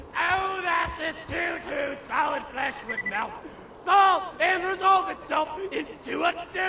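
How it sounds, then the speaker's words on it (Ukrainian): Psycho enemies in Borderlands 2 yelling and shrieking in wild, strained bursts, several overlapping voices screaming one after another, loud and close with barely a pause. "Тебе від їхнього репету сироти не пробирають?"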